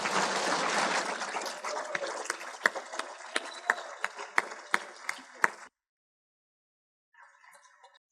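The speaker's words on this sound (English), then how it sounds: "We can give them an applause now." An audience at an annual meeting bursts into applause, a dense wash of clapping that thins to scattered claps and stops abruptly, followed by a short faint sound after a pause.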